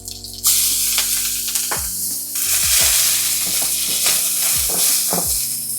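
Halved skin-on garlic and onion leeks dropped into a hot pan for beef tapa, setting off a loud bright sizzle that keeps crackling, with clinks and scrapes of stirring cutting through.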